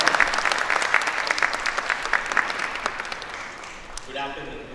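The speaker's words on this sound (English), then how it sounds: "Let us welcome him with a round of applause." Steady audience applause in a university auditorium greets a former professor arriving to give the keynote at an inaugural session, dense clapping that thins and fades near the end.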